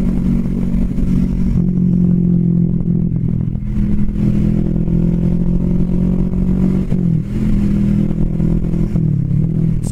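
A Kawasaki Vulcan S 650 Cafe ABS motorcycle cruising at highway speed, a loud steady engine drone with wind rush, holding an even pitch with slight dips in revs, no talk.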